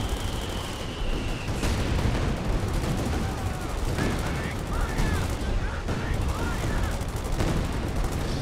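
Grenade blast and rapid gunfire from a Company of Heroes 2 battle, dense overlapping shots and booms filling the whole stretch, with a voice talking over the combat.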